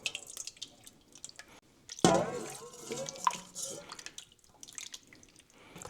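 Homemade gelatinous beef stock being drained from a container, heard as scattered close drips and a brief louder splashing pour of liquid, with quiet handling noise around it.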